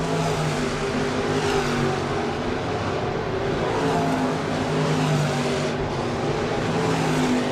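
IMCA stock cars roar around Crawford County Speedway in a heat race, a dense continuous engine drone with rising and falling pitch as cars pass, loud and unbroken.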